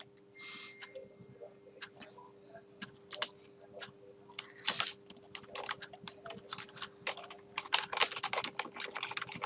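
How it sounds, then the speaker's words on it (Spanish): Someone types on a computer keyboard while entering text and pressing Enter, producing a quiet, irregular run of key clicks that grows quicker and denser toward the end. "aprieto Enter un par de veces para poder continuar con el texto"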